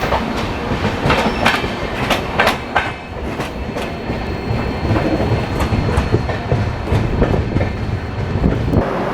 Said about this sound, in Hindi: अब हमारी ट्रेन पहुंच चुकी है शामगढ़